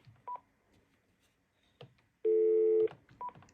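Keypad tones from a Panasonic KX-TG994SK cordless phone: a few short, quiet beeps followed by one longer steady tone and another brief beep, clean and close with no talk.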